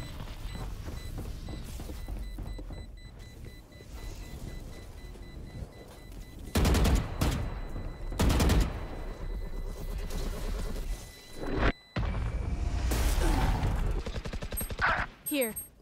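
Video game gunfire crackles in rapid bursts of shots, loud and close, mixed with game sound effects and music, while a player talks throughout.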